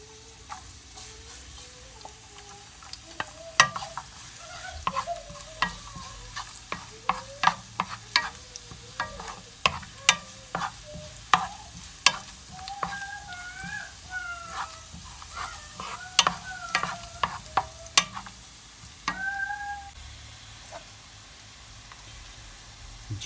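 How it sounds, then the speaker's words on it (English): Garlic sizzles in hot oil in a pan, with a steady soft fry under frequent sharp clicks and clatter of a utensil, plus a few high squeaky tones; moderately quiet and close. "Okay, so oil is ready now. Let's put some garlic."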